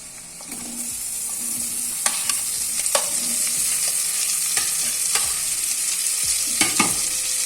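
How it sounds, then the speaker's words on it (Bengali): Potato pieces frying in prawn oil with fried onions, a loud continuous sizzle close by, broken now and then by sharp scrapes of a stirring spoon. "আলুটা একটু ভেজে নিই"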